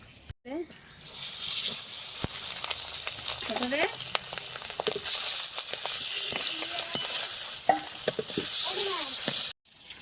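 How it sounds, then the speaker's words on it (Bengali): Three fish fry in a kadai wok with a loud, continuous sizzle and crackle while a spoon stirs and scrapes; a voice speaks briefly over the cooking. "কড়াইতে তো তিন তিন মাছ দিয়ে দিয়েছি"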